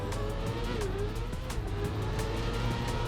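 A race car in Trackmania held at full throttle, a steady loud engine drone with shifting pitch and faint tire noise throughout, no gaps or pauses.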